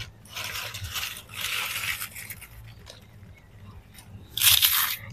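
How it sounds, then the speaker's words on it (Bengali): Crispy homemade potato chips fried from raw potato crunch and crumble as they are handled, giving bursts of dry crackling with a sharp, bright clatter of brittle pieces near the end. "এত মুচমুচে হয়েছে কে তুলতেই ভেঙে যাচ্ছে"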